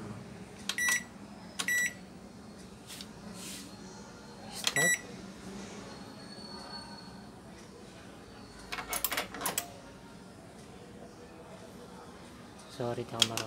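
A George Home GDM301B-16 microwave oven with a no-power fault, mostly a low steady hum with several sharp electronic beeps scattered throughout and soft clunks of handling nearby.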